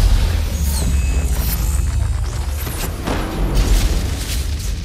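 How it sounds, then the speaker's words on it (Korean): Sombra's EMP going off in Overwatch, a loud, dense rumbling boom with crackling bursts that fills the whole stretch without pause. "EMP 발동."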